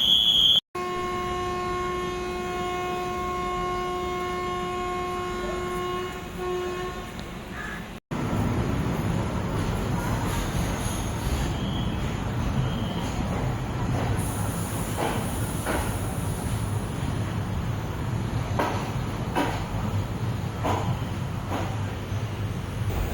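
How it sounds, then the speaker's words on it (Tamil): Passenger train 56812 Erode–Jolarpettai pulling out of Erode station, opening with a long steady horn blast before a brief cut, then continuous rumbling and clattering of the moving carriages, loud and close, with faint crows in the background. "நம்ம இந்த 56812 ஈரோடு ஜோலார்பேட்டை பேசஞ்சர் பார்த்திங்கன்னா ஒரு 10 மினிட்ஸ் டிலேயில் இங்கே ஈரோட்லேருந்து கிளம்பியிருக்குங்க"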